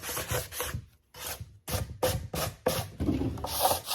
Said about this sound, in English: you don't want to sand away that texture, just enough to give it a good smooth